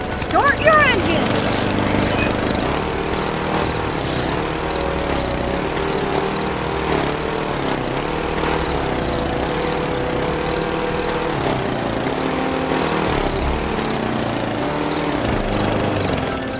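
Kart engines in a Jimmy Neutron racing game drone steadily together, buzzing and revving in repeating rising and falling waves for the whole stretch, fairly loud and continuous.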